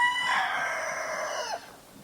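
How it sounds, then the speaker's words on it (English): A chicken from a backyard flock in a roomy netted pen gives one drawn-out call that rises and then drops off, fairly near and clear against quiet surroundings. "let's take a look at the chickens, see how they're doing."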